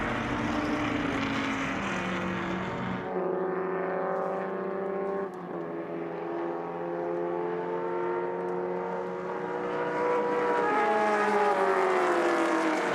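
Shelby and Ferrari race cars roar past, a V12 engine's sustained high-pitched note rising and falling in pitch as the cars pass and shift gears, loud and continuous without talk.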